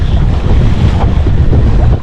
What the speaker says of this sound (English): the waves are pushing the stern of my kayak